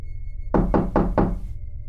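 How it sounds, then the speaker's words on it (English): Four firm, evenly spaced knocks on a door as a cartoon sound effect, loud and close, set against a quiet low hum. "only to wake up to the knocking again"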